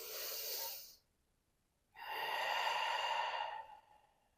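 Breathing during a yoga plank: a breathy exhale, a second of silence, then a long, deep inhale drawn close to the microphone.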